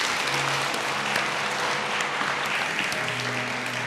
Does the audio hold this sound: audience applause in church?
yes